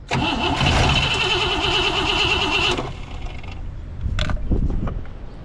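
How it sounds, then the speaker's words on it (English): A 1963 Pontiac Catalina engine turns over and runs loudly, then settles into a rougher idle with a few sharp knocks and rattles near the end from the fuel line hitting the alternator. "it might just be the fuel line bouncing off that alternator"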